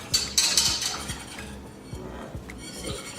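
Sugar-free maple syrup is stirred rapidly in a pan, with a utensil clinking and scraping against the metal in quick, irregular strokes, close and fairly quiet.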